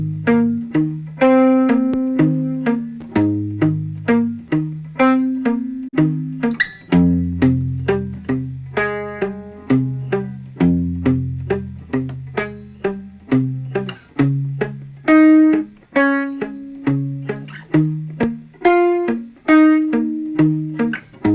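An electric guitar plays a riff slowly in chunky power chords, each strike decaying before the next, steady and unhurried throughout.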